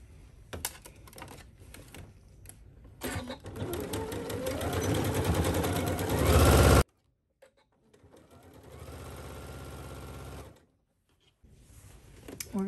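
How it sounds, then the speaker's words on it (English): A sewing machine stitching a skirt pocket, running in a fast, rising mechanical whir for several seconds, then stopping, followed by a shorter steadier run at lower speed before halting again, close up. "So let's take that to our sewing machine and do that now."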